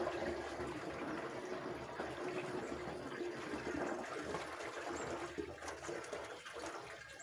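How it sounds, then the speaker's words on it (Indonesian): Catfish pond water poured into a bacteria mixture, a steady continuous splashing and gurgling pour that runs evenly and fairly close for the whole stretch, with no voices. "Nah, kita masukkan yang air kolam lele."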